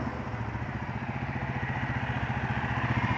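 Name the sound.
motorcycle engine running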